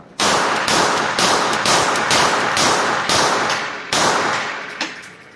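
A CZ 75 P-01 all-steel pistol fires shots at a target on a range, about seven sharp loud reports spaced roughly half a second to a second apart, each with a short ringing decay.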